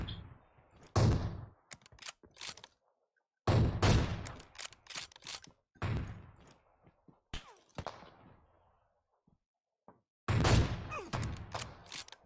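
Gunfire in the video game PUBG, several loud bursts of rapid shots separated by silent gaps, close and punchy, with clicks and brief sounds between them.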